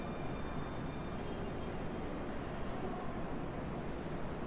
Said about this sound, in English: the rhythmic rumble of the approaching train growing louder